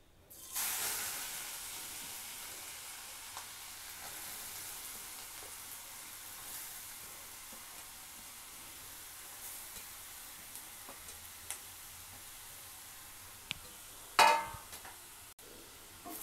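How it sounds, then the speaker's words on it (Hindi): Grated carrots sizzle softly in a hot kadhai for carrot halwa, a steady low hiss. A brief scrape of stirring comes near the end. "गाजर को हम अच्छे से चला देंगे इसमें"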